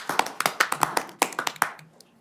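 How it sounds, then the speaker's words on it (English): A council meeting audience applauds, a short burst of separate claps from a small group that thins out and fades to quiet within a couple of seconds. "Let's give him a hand."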